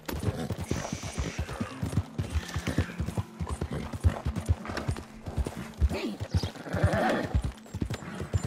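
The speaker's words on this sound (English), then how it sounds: "Come on, the horse has gotten tired again." A horse gallops in Red Dead Redemption 2, its rapid hoofbeats drumming steadily and loudly throughout, with a whinny near the end and game effects mixed in.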